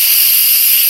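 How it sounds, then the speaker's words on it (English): An Instant Pot's pressure release valve vents steam in a loud, close, steady hiss that stays unbroken for the whole moment. "you're going to flip it, and it's going to let out steam"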